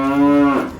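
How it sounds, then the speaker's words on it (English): A cow on a family farm gives one short, loud, close moo that rises and then fades, with no other sound around it. "So look at these cows."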